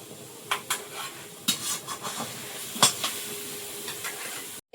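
Dry red chillies and whole cumin frying in hot oil in a wok give a soft, steady sizzle, broken by sharp clinks and scrapes of a spoon against the pan.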